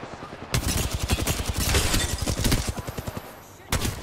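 Rapid automatic gunfire from Apex Legends rattles in dense repeated bursts, loud and close, stopping briefly near the end before another burst.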